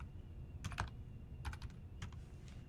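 Typing on a computer keyboard while entering router configuration commands, a few quiet bursts of rapid clacking keystrokes with short pauses between, faint and alone against a low background hum.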